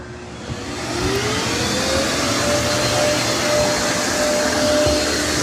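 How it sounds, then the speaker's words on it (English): A steady, loud vacuum-like roar with a faint rising whine runs continuously as a Eufy E28 robot vacuum dock's pump or suction motor drains the dirty water tank, with no voices. "See, this one's emptying its dirty water tank."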